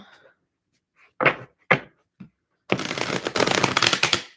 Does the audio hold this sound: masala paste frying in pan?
no